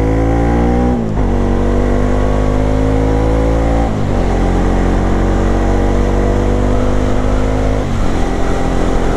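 A motorbike engine drones loudly and continuously on city roads, rising steadily in pitch as it accelerates, dropping back at each gear change, with no talk over it.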